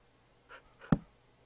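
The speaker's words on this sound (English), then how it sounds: "Oh, it's the dog." A dog in a survival video game gives a short, soft vocal sound, a faint panting whimper followed by one quick sharp yelp, close and alone.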